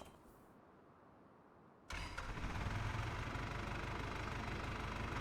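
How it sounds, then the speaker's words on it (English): A tractor engine in Farming Simulator 25 starts abruptly after a quiet moment, then settles into a steady, close, rumbling idle that holds level to the end. "And can jump in a tractor"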